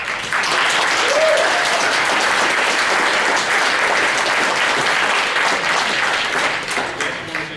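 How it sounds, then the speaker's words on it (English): An audience at a student debate event breaks into sustained applause, a dense wash of clapping from many hands that holds steady for several seconds before thinning. "How about a nice round of applause for all these folks?"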